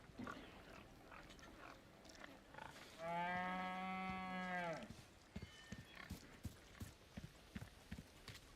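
A single long, drawn-out moo from a cow in a farm barn in the video game Resident Evil 4 Remake, loud and close, with soft thudding footsteps and clopping before and after it.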